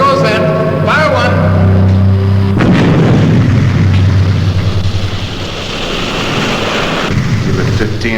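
A charge fires in the Supercar puppet series episode Ice Fall, a deep rumbling blast that swells into a long roaring wash over a steady low hum, with voices speaking over it.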